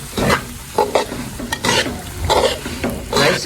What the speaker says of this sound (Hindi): इसमें हम सूजी ऐड करेंगे और इसको अच्छी तरह से पकाएंगे, अच्छी तरह से।